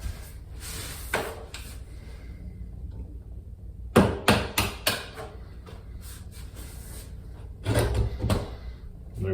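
A nail is tapped against door hinge pins to work them loose, giving a few clustered clicking knocks early, a rapid run of sharper metallic taps midway, and another short burst near the end, close and moderately loud.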